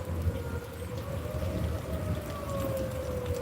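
Steady rain falling on surfaces outdoors, a dense, even patter close by with a faint tonal drone underneath, no voices.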